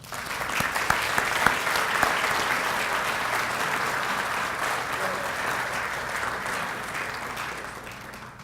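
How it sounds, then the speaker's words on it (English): Sustained audience applause at the 2016 Desert Peaks Awards event fills the room, steady and fairly loud for the whole stretch with a few sharper claps standing out early on. "Can we have a round of applause?"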